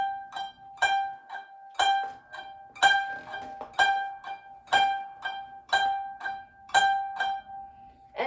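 Koto's twelfth string plucked over and over in Hana Ikada's first part, a steady run of a dozen or so resonant notes with lingering sustain, played alone at moderate loudness and close up.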